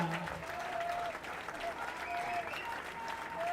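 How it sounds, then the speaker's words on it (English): An audience at a rowing nationals award ceremony in Sri Lanka claps in steady, sustained applause throughout, with a faint voice over the hall's loudspeaker partly audible underneath. "Could we have a big round of applause for Pisa Jala, Shannon Kariwasan, and Bhadik"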